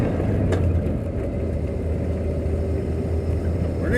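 Work van rolling smoothly along a road on fresh tires, a steady low engine hum and road rumble heard from inside the cab, with a person talking over it.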